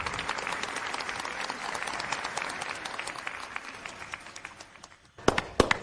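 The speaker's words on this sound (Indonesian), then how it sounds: "Mari kita beri tepuk tangan meriah untuk Bapak Rizky Pratama dan Ibu Putri Ayu." Wedding guests applaud, a dense wash of clapping hands that holds steady and slowly thins out, followed by a few sharp louder bangs at the end.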